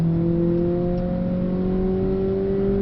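A race car running on the Nürburgring Nordschleife, a steady sustained engine drone with a slowly rising tone, loud and continuous, heard from inside or close by without any talk.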